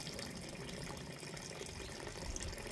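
Flowing water on Cagbalete island in Mauban, Quezon makes a faint, steady, continuous rush with no voices.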